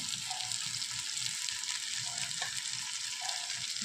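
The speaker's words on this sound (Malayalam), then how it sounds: "ഇതെല്ലാം കൂടെ ചേർത്ത് നന്നായിട്ടൊന്ന് മിക്സ് ചെയ്ത് യോജിപ്പിക്കണം" Chili and coriander powder stirred together in hot oil in a pan for a spicy jackfruit seed curry, giving a dense, steady sizzle throughout with faint soft scrapes from the stirring.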